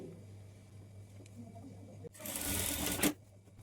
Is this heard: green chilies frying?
no